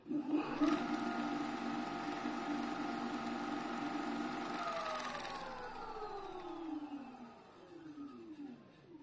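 A Kukirin G3 Pro electric scooter accelerating in third gear gives a steady, loud motor whine that holds for several seconds and then glides down in pitch as it eases off, with no voices.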